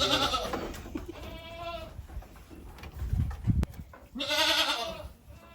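Goats bleat on a farm, several loud wavering calls in close succession with a pause between bursts, mixed with some handling noise and brief low thumps.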